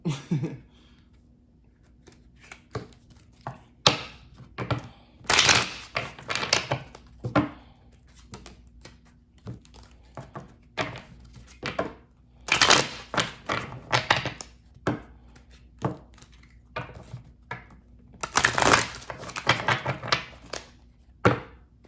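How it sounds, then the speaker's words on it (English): Tarot cards being shuffled in irregular bursts of soft slaps and riffles, close by, separated by quiet pauses with occasional taps. "let me go ahead and stop talking and get these cards shuffled."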